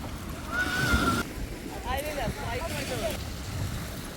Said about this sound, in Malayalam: അടിപൊളി തിരയാണ്